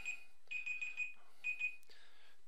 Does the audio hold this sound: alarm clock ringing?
yes